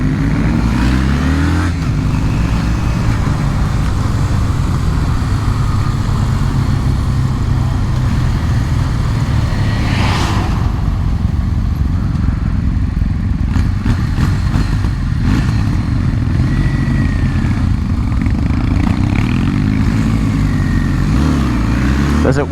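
A 2020 Kawasaki W800 motorcycle rides around town, its engine a steady loud rumble with a faint shift in pitch midway, heard up close throughout without any talk.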